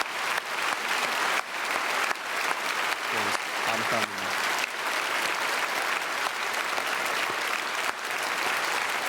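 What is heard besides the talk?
church congregation applause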